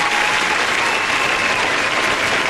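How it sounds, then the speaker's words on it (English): Steady, dense applause fills a radio studio, loud and continuous throughout with no voices over it. "It's a round of applause for you."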